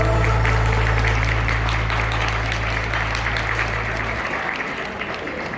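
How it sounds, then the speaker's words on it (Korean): Wedding guests at a ceremony break into sustained clapping, a dense even wash of applause filling the hall, with a low steady hum underneath for most of it that drops away near the end. "시간 주신 아버님께 다시 한번 큰 박수 부탁드리겠습니다"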